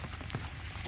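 Heavy monsoon rain pouring down, a dense close wash of drops hitting surfaces, steady throughout the short stretch.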